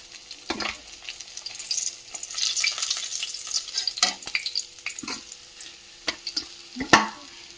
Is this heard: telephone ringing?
no